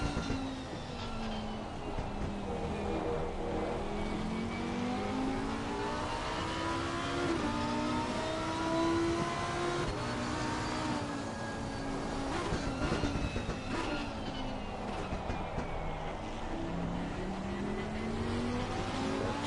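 GT3 race cars lapping Misano in Assetto Corsa Competizione on PS5, engines rising and falling in pitch as they accelerate and shift, several overlapping car sounds at moderate distance, fairly quiet throughout.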